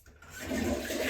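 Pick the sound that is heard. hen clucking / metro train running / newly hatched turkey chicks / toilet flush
toilet flush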